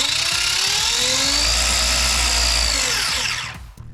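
A toy-grade RC car converted to a brushless motor with an ESC and large battery, a loud high-pitched electric whine that rises and falls in pitch, close up, then cuts off abruptly near the end.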